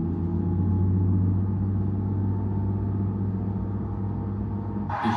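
A car engine in a driving simulator, a steady low humming drone that holds at an even level throughout, ending in a brief burst of noise.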